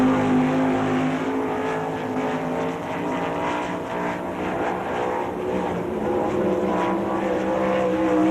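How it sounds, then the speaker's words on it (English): A World of Outlaws sprint car at Rossburg, Ohio roars continuously around the dirt track on a lap, a loud, sustained engine drone with shifting pitch and no gaps. "Gary Brazier off of turn number 4 down to the white flag"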